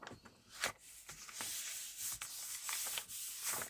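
An old cloth ink pad is rubbed over paper to take ink off, giving repeated close, soft scrubbing and brushing strokes in an uneven back-and-forth rhythm, fairly quiet with no talk.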